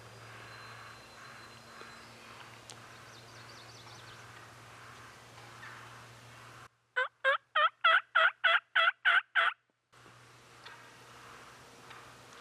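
A wild turkey lets out a burst of loud, rapid gobbling, about nine quick pulses in a row, rising sharply out of a quiet outdoor background during a spring hunt, then silence as the calls stop.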